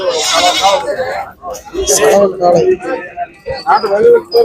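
Goats bleat at the Kunnathur goat market, loud wavering cries close by, rising now and then over steady nearby talking and market chatter.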